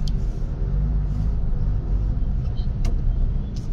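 Heavy road traffic forms a steady low rumble of cars idling and creeping along, with a few faint higher squeaks and clanks on top and no talk.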